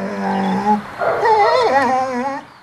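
A trained film dog on a mountain shoot, whimpering and yipping in drawn-out, wavering whines that rise and fall, loud and close with no talk.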